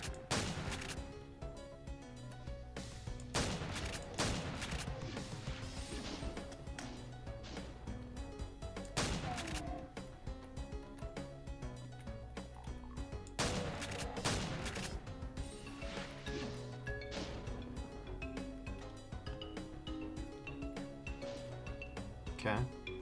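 Gunfire in a video game, with repeated heavy shots in irregular clusters amid a busy, constant game soundtrack, while a person talks intermittently.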